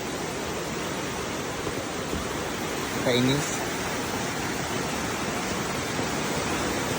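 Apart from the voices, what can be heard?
strong flood water rushing past a farm spillway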